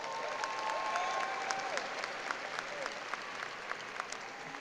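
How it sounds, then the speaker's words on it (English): A crowd at a high school graduation ceremony applauds for their principal, with steady, moderately distant clapping in a large space and a few sharper claps standing out. "give your principal a round of applause"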